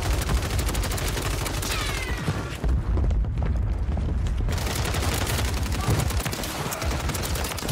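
Gunfire in a battle royale video game, with dense, continuous volleys of shots and clatter that ease briefly midway before resuming loudly.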